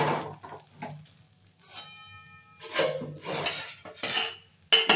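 A lid is set down on a pan while soru chakli, a Bengali rice crepe, is being cooked, giving a few close metallic clanks and clatters spread between quieter kitchen handling noises.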